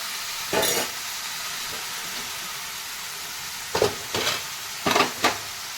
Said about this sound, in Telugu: కర్రీ ఇంకా ఫ్రై అయిపోయిన తర్వాత చికెన్ అయితే వేసుకోవాలి.